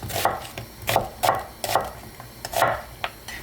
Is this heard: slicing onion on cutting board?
yes